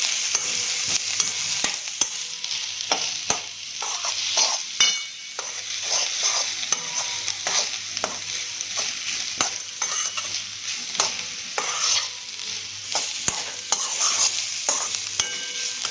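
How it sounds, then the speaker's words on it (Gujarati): Grated carrot stirred into sizzling quinoa upma in a pan: a steady close-up frying sizzle with repeated spoon scrapes and stirring strokes throughout, no talking. "ત્યારબાદ આપણે આમાં છીણેલું ગાજર એડ કરી દઈશું"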